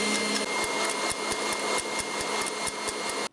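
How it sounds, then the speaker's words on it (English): An electric mixer running on high, beating egg whites with cream of tartar for a gluten-free chocolate cake, gives a steady, loud motorized whir with a regular rhythmic clatter from the beaters in the bowl. "we're going to turn our mixer up on high. And just beat it, probably for about a minute till it's frothy"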